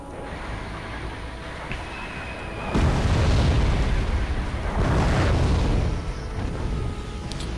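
Artillery shells from the video game Wargame: European Escalation land in heavy, rumbling booms, with a quieter battlefield hum before them and a sustained roar of blasts following.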